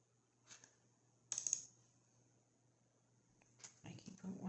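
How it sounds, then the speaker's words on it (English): Short bursts of clicking keystrokes on a computer keyboard come in a few separate clusters, fairly quiet, with a voice talking toward the end. "I keep wanting to type in the keyboard"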